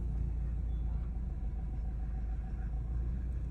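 A stuck car on a dangerous mountain road between Bairagarh and Sach Pass, its engine labouring in a steady, close, low rumble that holds without pause.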